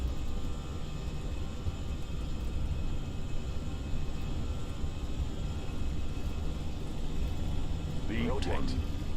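Airbus A319 engines held at takeoff thrust on the runway, a steady, dense roar and rumble filling the cabin from start to finish, with brief cockpit voices near the end.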